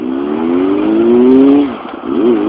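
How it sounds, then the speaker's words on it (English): A motorcycle engine on a cold start in Tokyo streets is revved steadily, its pitch climbing smoothly for over a second, then dropping sharply and rising again in a short blip; loud and close, with no voices. "the engine is still cold, so I'm still like, you know, using a little bit of throttle to warm it up"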